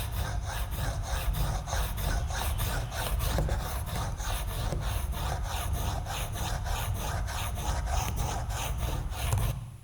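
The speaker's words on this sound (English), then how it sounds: "this is a recorded version of a PVC scraper scraping over a vinyl tile" A PVC scraper dragged over a vinyl tile makes a steady, loud, gritty rasping scrape with a fast repeating stroke texture, continuous for about ten seconds with no voices.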